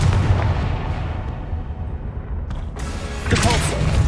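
A Confringo fire blast spell explodes in the Hogwarts Legacy video game, heard as booming, gunfire-like blasts in a loud continuous battle with a fresh burst near the end.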